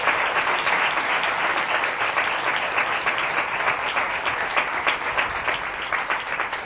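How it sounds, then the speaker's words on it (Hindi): Loud, sustained applause from a church congregation for a pastor and his team fills the room, with dense clapping at an even level throughout. "जोरदार तालियां।"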